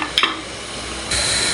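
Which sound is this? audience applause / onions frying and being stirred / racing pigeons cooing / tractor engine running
onions frying and being stirred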